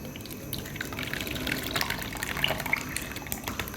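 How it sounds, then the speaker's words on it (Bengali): Mango pudding ingredients are poured one after another into a container, giving a faint, close, continuous liquid pouring and trickling sound with small clinks. "এখন আমি এক এক করে সব কিছু ঢেলে দেবো।"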